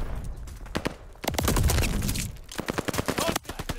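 Rapid gunfire crackles around the hard point in Call of Duty: Vanguard, with bursts of loud, closely spaced shots, a short rumbling blast in the middle, then more fast rattling volleys.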